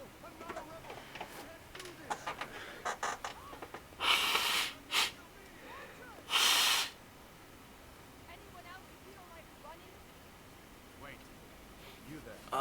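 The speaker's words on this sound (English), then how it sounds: "Blow my nose real quick." A person blows their nose in two loud, rushing honks a couple of seconds apart, preceded by sniffs and small handling noises in a quiet room.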